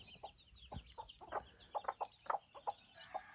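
Hens clucking in a series of short, separate calls, some louder and closer, others softer, with a brief low thump partway through and no talking.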